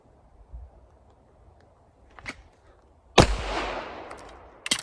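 Handgun shots ring out at a shooting range as a shooter fires in pairs with a magazine change between; one sharp loud report stands out with a decaying tail and smaller impulsive cracks around it, with no talking.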